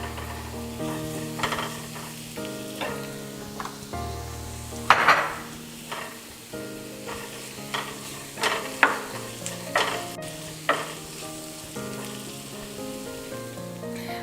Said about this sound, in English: I'm going to put some garlic powder and turmeric on top of this sizzling